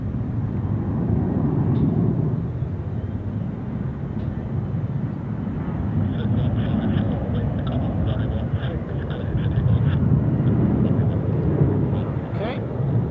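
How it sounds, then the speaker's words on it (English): A Swiss Airbus A330 taking off from runway 6 at Zurich Airport, a broad, steady low jet roar heard from a distance that holds at the same level throughout. "We have another again, departing out of runway 6, which is a Swiss Airbus A330."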